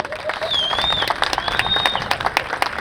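An audience at a city birthday party and State of the City address applauds event staff, with scattered claps and crowd noise beneath a whistling tone, moderately loud and continuous.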